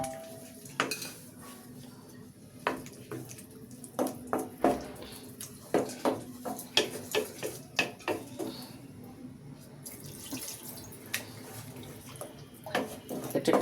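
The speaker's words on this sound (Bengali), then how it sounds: "এখন আমি পানিটা দিয়ে একটু পানি দিচ্ছি।" Water poured into a pan of cooking eggs, with clinks and scrapes of a utensil against the metal pan, soft splashing and stirring, fairly quiet and close in a kitchen.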